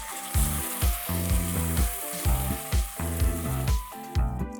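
Mutton with mint paste is stirred in a hot pan for a spicy green lamb curry, with close, rhythmic bursts of sizzling and scraping repeating roughly every half second, loud and without talk.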